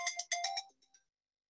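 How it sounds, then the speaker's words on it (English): A phone ringtone chimes during a health and society lecture, a quick bright melodic run of tones that ends and fades out within about a second, with no talk over it. "Let me handle a phone call here."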